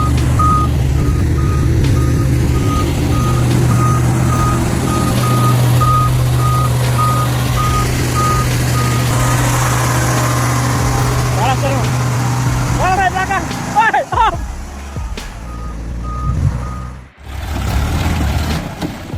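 A heavy tractor stuck in deep mud drones with a loud, continuous engine roar and a steady reversing beep pulsing over it. Near the end the engine revs and then cuts out briefly.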